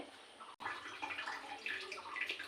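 Boiled potatoes draining, a faint, soft rush of pouring water with a short break near the start, then running on quietly.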